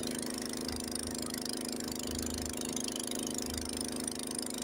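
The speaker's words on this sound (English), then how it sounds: "You can hear the engine." A Honda snowblower engine runs at a steady idle-like drone during a Lake Tahoe snowstorm, heard faintly at a distance, with a low rumble that swells and eases rhythmically as the engine labors.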